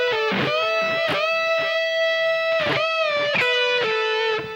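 Electric guitar playing a lead phrase from the third solo of a song twice in a row, sustained bent notes with a lightly distorted tone, played alone with brief picked attacks between held pitches.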